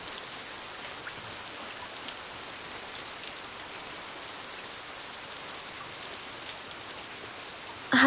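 Steady rain falls continuously, a soft even hiss of drops on surfaces with no voices.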